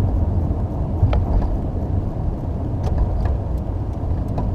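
A car in a realistic driving game mod, coasting in neutral down a slight hill, gives a steady, loud low-pitched engine and road drone with a few faint clicks, and no talking.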